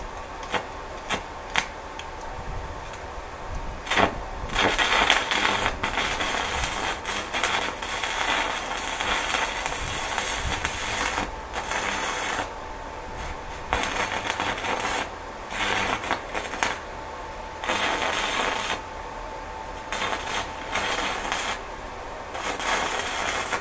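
An old basic-coated electrode arc welds at about 100 amps, giving a steady close crackling hiss that runs nearly the whole time, with a few short breaks where the arc drops out.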